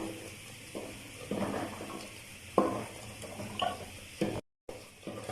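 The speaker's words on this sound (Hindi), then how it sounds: "अभी मैं भून रही हूँ कलेजी को।" Mutton liver (bakra kaleji) frying in a pan with a little cooking oil and salt, a soft sizzle broken by bursts of stirring and scraping, with a brief dropout near the end.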